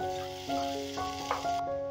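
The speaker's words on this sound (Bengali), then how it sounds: "এবারে পেঁয়াজের সঙ্গে আলুটা ভালো করে লাল লাল করে ভেজে নিই।" Sliced potatoes and ring-cut onion frying together in a pan make a soft, steady sizzle, heard alone and quietly beneath a sustained melodic tone.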